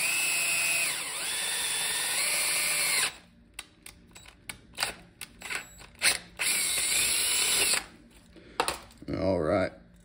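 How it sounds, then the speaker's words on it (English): A power drill with a tapered bit runs steadily for a few seconds, then starts and stops in short bursts with brief gaps, close up and loud, drilling a hole. "we'll get to drilling this hole"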